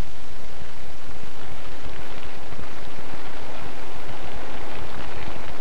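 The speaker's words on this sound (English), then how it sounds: "Already, flames have whipped up a wind inside the building." Fire-driven wind roaring through the inside of a burning building during a 1958 fire experiment, a dense, steady broadband rush with no break and nobody speaking.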